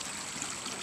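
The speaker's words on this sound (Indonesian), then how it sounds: "mengalir air di sini yang bekas sungai kecil ya di pertengahan kebun ini guys" Floodwater running through a small, long-dry former stream bed in the middle of a garden plantation in Kampung Napung. It is a brief, steady rush and trickle of flowing water, close and moderately loud, with no voices.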